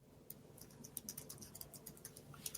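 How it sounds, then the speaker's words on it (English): Fingers tap on a computer keyboard in quick, uneven bursts of light clicks, close and faint over a soft room hum, with no talking. "You can hear my typing, can't you?"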